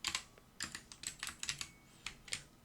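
Keys tapped on a computer keyboard while entering Excel formulas, a close, crisp run of quick clicks in irregular bursts with brief pauses, no voices.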